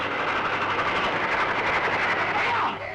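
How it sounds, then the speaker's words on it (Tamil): A train approaching on a railway line, its steady rumble and clatter filling the scene continuously before easing slightly at the end, with no clear talk over it. "ரயில் வந்துட்டு இருக்கமா"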